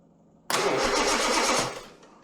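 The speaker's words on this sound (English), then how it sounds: "let's just see if it spins over" An Armstrong Siddeley Special car engine cranking over after rewiring, a sudden loud burst of rapid churning from the starter that runs steadily for about a second before dying away, close and alone.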